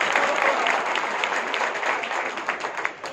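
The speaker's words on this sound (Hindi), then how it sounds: "चलो तालियां बजाओ उनके लिए।" Audience applause at a community meeting with a minister and local voters in Ramzanpur, a dense, steady clatter of many hands that stays loud for the whole stretch.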